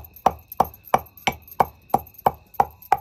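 Cardamom pods being crushed fine for basundi, made the village way at home, come through as about nine sharp, evenly spaced thuds in a steady rhythm, close and clear with no talking.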